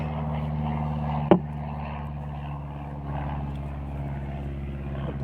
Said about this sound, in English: The plane is back.